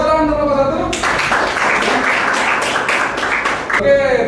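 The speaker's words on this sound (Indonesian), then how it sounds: "Oke, tepuk tangan untuk nomor 1." A classroom audience applauds for the first presenter in a burst of dense clapping lasting about three seconds, with a voice speaking just before and after it.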